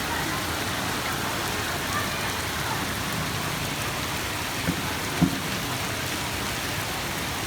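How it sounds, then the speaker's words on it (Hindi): Heavy monsoon rain pours down in Lahore in a steady, dense hiss that fills the whole stretch, with a couple of faint knocks near the end. No one speaks. "ठंडी ठंडी बारिश है। बारिश ने गर्मी को दूर कर दिया।"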